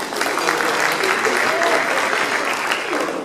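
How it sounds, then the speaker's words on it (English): Steady, dense audience applause fills a room at a synagogue's anniversary dinner, loud and sustained with a faint voice underneath. "An additional round of applause, of course, to our journal chairman"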